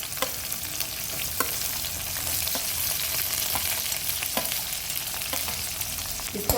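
Coarsely chopped onions and green chili frying in oil for chole, a steady hissing sizzle punctuated by sharp spoon clacks against the pan.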